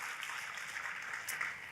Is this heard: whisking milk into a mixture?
no